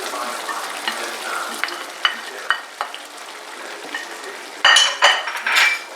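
Noodles are stir-fried with softened green beans and carrots, a low sizzle under scattered scrapes and clinks of a utensil against the pan, growing into louder, busier tossing toward the end; no talking.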